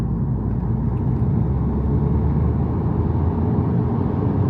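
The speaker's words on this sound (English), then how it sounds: "It's time to do the 4th gear acceleration and data log that." A Mini Countryman SD (R60) with a stage 1 remap pulls hard in fourth gear, a loud, steady, close engine drone and road rumble building continuously with no talking.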